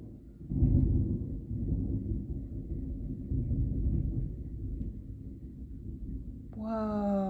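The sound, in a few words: thunder after a big lightning strike during a storm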